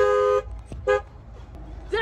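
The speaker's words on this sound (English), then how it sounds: "Deku, you set off the car alarm!" Car alarm honks in short, loud horn blasts, three bursts separated by pauses, close by in a store parking lot with a quieter background between blasts.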